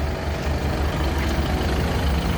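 Lovol 504 mini tractor driving up outdoors, its engine a steady, fairly loud low rumble that holds even throughout, with no voices.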